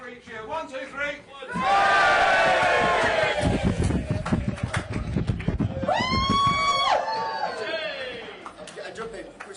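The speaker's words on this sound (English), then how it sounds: "Give us a 1, 2, 3 cheer." A political rally crowd roars in a loud cheer on a count, with yells and whoops rising sharply, then a few shrill individual shouts standing out over the noise.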